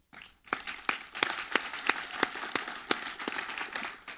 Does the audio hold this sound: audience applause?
yes